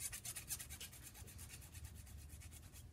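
Mr. File abrading burrs off a small photo-etched metal model part, a quiet, steady rhythmic rasping of quick strokes repeating for several seconds, close up with no talking.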